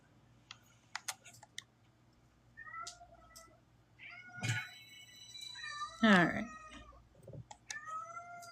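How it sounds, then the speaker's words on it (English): A pet cat meows and whines in a few short, rising calls spread through the moment, close by and fairly soft, with light clicking and a brief spoken word from a person nearby. "My cat loves to go in the bathroom and just whine for nothing."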